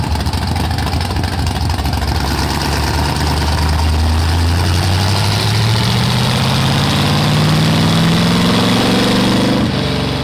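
A barn-find Pontiac Firebird V8 runs loud and close, its rough low rumble holding steady, then climbing in pitch as it revs up toward the end.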